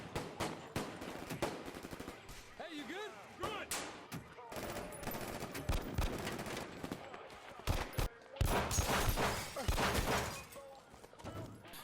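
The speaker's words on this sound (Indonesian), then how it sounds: "Tanpa berpikir panjang, ia langsung menembak targetnya hingga tewas." Rapid bursts of gunfire ring out in a film shootout, scattered single shots mixed with dense automatic volleys, loud and close, with a heavier barrage late in the scene over music and background noise.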